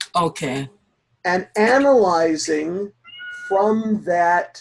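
A cat meows several times, drawn-out wavering cries, close and fairly loud, in a home where a person speaks briefly.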